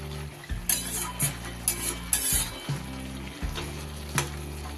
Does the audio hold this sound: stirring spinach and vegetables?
yes